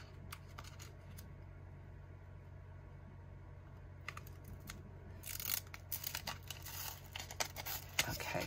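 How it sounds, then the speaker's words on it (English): Protective film being peeled off a Dura-Lar sheet, faint ticking and crackling at first, then a louder crinkly tearing rustle toward the end, close by with no talk. "So let's peel up this one now."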